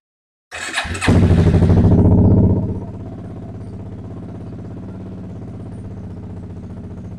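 A 1992 Suzuki QuadRunner 300 quad, parked for five years and run on choke, cranks and fires into a loud, close clatter that flares briefly, then drops to a steady, rapid idle.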